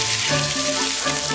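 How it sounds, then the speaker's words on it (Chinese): Pork belly stir-fried in a wok gives a steady, close sizzle and crackle of frying fat, with no voices over it. "先把五花肉炒一下"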